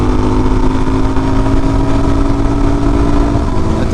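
A motorcycle fitted with an FCR39 carburetor pulls hard through a 0 to 60 run, its engine roaring loud and close as the rising tone climbs steadily.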